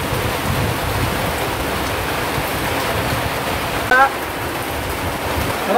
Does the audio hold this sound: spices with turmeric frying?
no